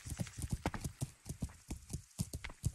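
Horse hooves clip-clop in a steady, brisk rhythm as a horse moves past in the video game Kingdom Come Deliverance, close and fairly loud, with a brief whinny-like tone.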